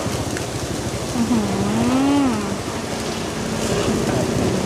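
Steady rain falls in a continuous hiss at an outdoor street-side food stall. A soft low rumble suggests distant thunder beneath a brief rising-and-falling tonal whine.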